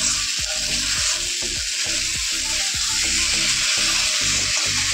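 Fish curry masala sautés in a pan with a steady, close sizzle and frying hiss, broken by repeated scraping and stirring strokes in an uneven rhythm; no one talks.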